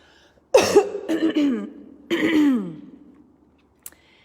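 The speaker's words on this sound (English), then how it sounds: "I have to cough" Several throaty coughs close to the mic in two clusters, a rough hacking burst followed by another raspy cough, then a faint click.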